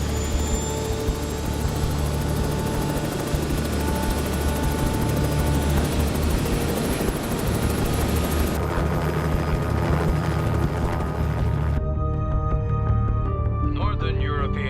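Aircraft taking off, a steady, loud engine roar that holds throughout and builds to a broad rushing whine before cutting off abruptly near the end.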